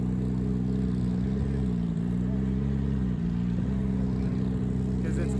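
A twin-turbo Porsche GT3 engine idling and revving during tuning, a steady loud low drone with slight pitch shifts as the throttle moves, close up and continuous.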